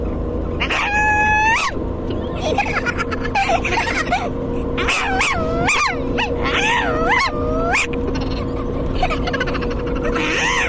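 A person mimics a dog during a friends' mimicry game, with a long howl followed by a rapid series of sharp barks and yelps, close and loud against steady background noise.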